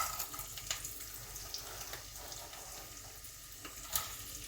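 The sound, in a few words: green chilies, curry leaves and onions frying and stirred in pan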